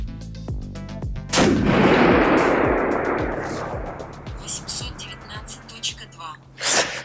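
A single loud gunshot bursts out during chronograph testing and rings into a long decaying echo, with a few softer clicks and a voice-like sound near the end.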